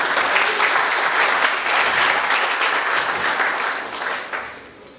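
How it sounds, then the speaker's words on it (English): A conference audience at a DevSecOps talk gives the organizers a round of applause, a dense, steady wash of clapping that holds for several seconds before gradually thinning out at the end. "I want to just give a round of applause to the organizers to put this together"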